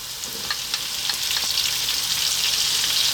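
Potatoes and onion frying in a pan, a steady bright sizzle that builds slightly, with occasional crackles and pops.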